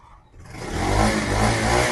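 A 2018 Bajaj Pulsar NS200 motorcycle in excellent condition starts quiet, then its engine revs up sharply and holds a loud, steady, close roar for over a second, with no talk.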